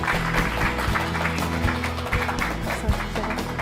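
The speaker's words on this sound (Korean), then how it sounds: "큰 박수로 맞이해 주시기 바랍니다" An audience applauds to welcome Professor Im Won-bin, a lecturer on Yi Sun-sin's leadership, with dense continuous clapping for a few seconds, a steady hum underneath.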